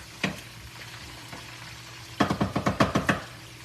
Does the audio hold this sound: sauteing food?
yes